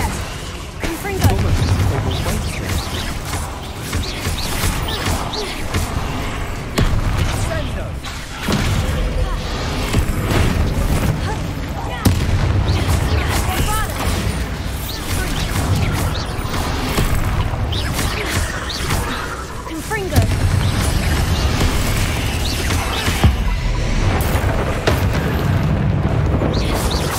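In the Hogwarts Legacy video game, a Confringo spell goes off with loud, dense booming blasts that continue for the whole stretch, mixed with crashing debris and a heavy low rumble.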